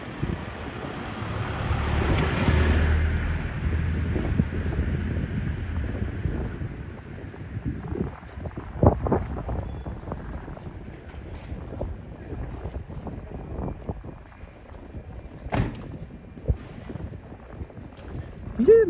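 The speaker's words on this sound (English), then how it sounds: "A little bit windy. Don't know if you can hear the wind" Wind gusts buffet the microphone outdoors on a morning walk through central Tokyo, a loud rushing swell early on that fades into lighter blustery noise with scattered street sounds.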